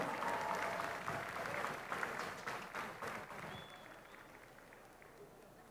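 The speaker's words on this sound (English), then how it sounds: "Give her a round of applause." A stadium crowd at an athletics meet applauds a sprinter, a broad, dense roar of clapping that starts loud and gradually fades, with crowd noise mixed in.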